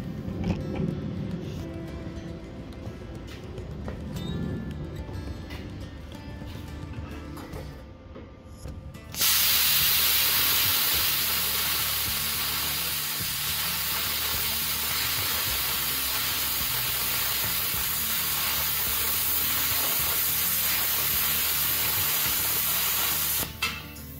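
An Xcel-Arc Razorcut 45 plasma cutter slices through 14 mm metal with a loud, steady, close hiss that starts abruptly partway through and runs unbroken to the end, after a rougher stretch of lower noise.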